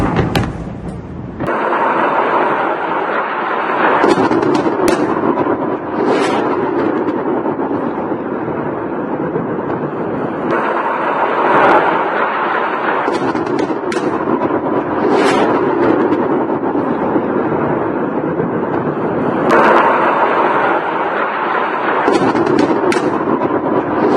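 Series of bomb explosions along bridges in Lebanon, heard as a sustained, loud roar of blasts and rumbling with repeated sharp bursts over about twenty-four seconds, no talking.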